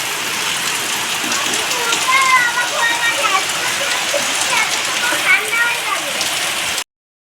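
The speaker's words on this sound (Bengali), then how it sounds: "আর দেখো এরকম বৃষ্টি হচ্ছে" Steady rain pours down without pause, a dense, close hiss of drops striking a surface, with faint higher chirps flickering through in the middle.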